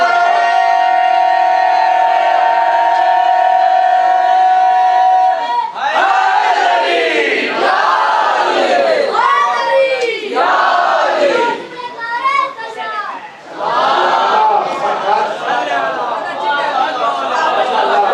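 A large crowd at a Shia majlis in Lucknow chants a religious slogan in loud rhythmic unison, swelling in repeated waves after a sustained held cry.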